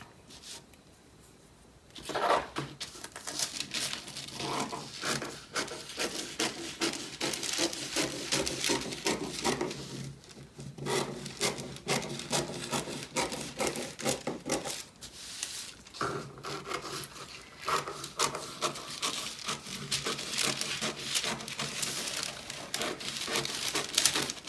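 Shears or a blade cut through pattern paper while drafting a sweetheart neckline, giving continuous close rasping and rubbing strokes with a short pause near the start and brief breaks midway.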